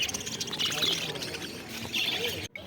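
Pet lovebirds and budgerigars chirp at a bird market, bright overlapping tweets mixed with crowd noise and talking close by.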